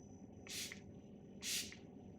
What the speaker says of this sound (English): Use the IFD Care Oil from the DeLonghi Coffee Care Kit to spray the inside of the lid